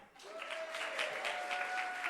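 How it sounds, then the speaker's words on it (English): An audience at an impact pioneer awards event claps steadily for about two seconds, a dense, moderately distant patter of many hands with a faint tone running underneath. "Clap hands for my farmer."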